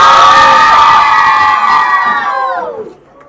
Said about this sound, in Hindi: अरे बच्चे लोग चिल्लाओ।